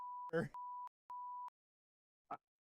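Steady electronic beeps at one pitch, three sustained tones in a row, with a brief burst of another sound between the first two and a short noise after.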